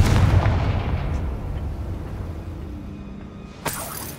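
Confringo fire spell blast in the Hogwarts Legacy video game, a heavy booming explosion that decays into a long low rumble, then a short sharp crack near the end.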